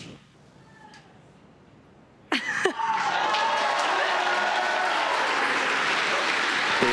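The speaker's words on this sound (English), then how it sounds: "You can hear the cheering in the background." A crowd bursts into loud, sustained cheering and applause when a SpaceX Falcon 9 first stage lands after a GPS III launch, rising suddenly after quiet commentary and holding steady to the end.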